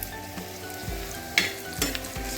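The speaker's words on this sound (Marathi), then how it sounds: "तव्यामध्ये तेल घेतलेलं आहे, प्रथम कांदा भाजून घेऊया" Sliced onion frying in oil in a pan, a continuous close sizzle broken by a few sharp stirring clatters and scrapes, with no voices.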